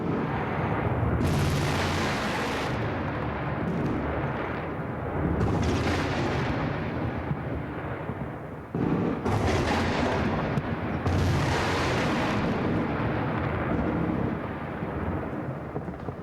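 Heavy bombing strike explosions over Baghdad at sunrise, heard as a continuous loud roar of distant booming blasts and rumbling detonations that surge and overlap throughout, with no voices.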